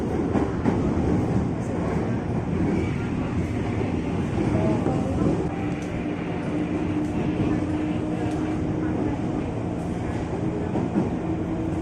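A long 12-car KRL commuter train runs from Depok toward Jatinegara, heard from on board as a steady, loud rumble with rail clatter throughout, faint voices now and then.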